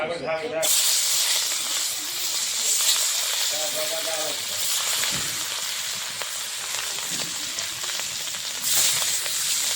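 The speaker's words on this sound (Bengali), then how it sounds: "মাছটা এখন ভেজে নেব কড়াতে দিয়ে দিচ্ছি" Turmeric-and-salt-coated rohu fish pieces frying in hot oil in a kadai give a loud, steady sizzle and hiss throughout, with brief voices speaking over it.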